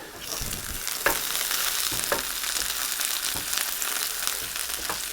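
Caramelised onions and sausages sizzle loudly and evenly in a pan on a turned-down ring, with repeated scraping stirs at irregular intervals.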